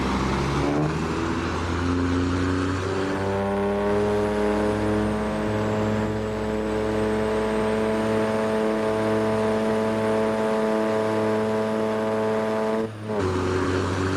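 A heavy truck engine in American Truck Simulator revs up toward the redline, a loud sustained drone whose pitch climbs and then holds high before a brief dip for a gear change, with no talking.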